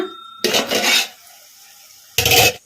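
A metal plate used as a lid is lifted off a pot of boiling brinjal, two short bursts of scraping, rattling metal close by, separated by a quiet gap.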